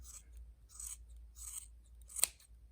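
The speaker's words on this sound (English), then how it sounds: "Flip this over and just trim the same thing." Scissors trim the yarn strings of a pom pom for a hat in three soft, close snips, followed by a brighter, sharper cut near the end.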